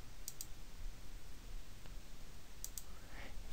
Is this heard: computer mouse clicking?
yes